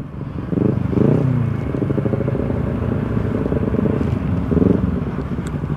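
A motorcycle with a loud exhaust rumbles nearby, its throaty engine throbbing continuously with a couple of revs, mixed with wind noise.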